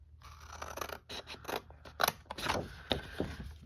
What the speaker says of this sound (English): I want this tab, I'm gonna cut this off right here.